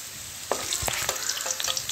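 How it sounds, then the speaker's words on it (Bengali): Potato pieces frying in hot oil with salt and turmeric give a steady close sizzle, with a few sharp utensil clinks and scrapes scattered through it. No voices are heard. "নুন আর হলুদ দিয়ে আলুটাকে ভেজে তুলে রাখবো।"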